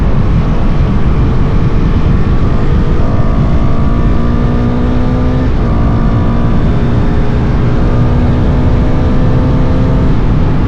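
Loud, steady Husqvarna Vitpilin 401 motorcycle engine drone under heavy wind rush while riding, with a rising tone as the engine shifts through gears.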